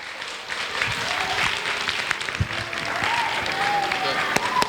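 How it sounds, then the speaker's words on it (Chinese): An audience claps steadily in a hall to thank two teachers at the end of their talk, the applause holding for several seconds while voices speak over it. "大家掌声感谢。"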